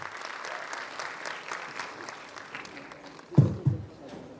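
Applause from the audience at a medical institute's convocation ceremony, a steady moderate clapping crowd, with a couple of loud thumps near the microphone toward the end.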